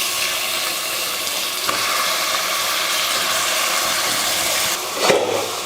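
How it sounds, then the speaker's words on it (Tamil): Half a kilo of chicken frying with browned onions and curry leaves in a pan, giving a loud, steady sizzle and hiss of steam, with a brief clatter of stirring near the end. "நான் வந்து 1/2 கிலோ சிக்கன் சேர்த்துக்கிறேன்."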